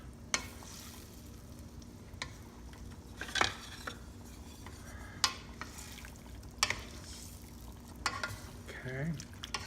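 Goat meat stew (kalderetang kambing) in sauce stirred in a pot, with sparse clinks and scrapes of a utensil against the pot over a low simmering hiss, quiet and close.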